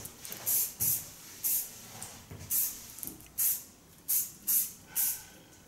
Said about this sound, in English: I just need a little bit hairspray